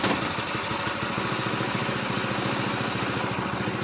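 A Predator 212 small engine running through its break-in, up close and loud: a steady, rapid low-pitched putter with a rhythmic chug and no voices over it.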